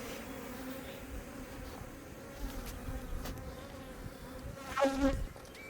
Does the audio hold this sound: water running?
no